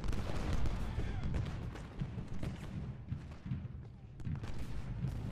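Artillery in Ultimate General: Gettysburg booms repeatedly in dense, overlapping volleys mixed with distant musket fire, with muffled thuds rolling on continuously.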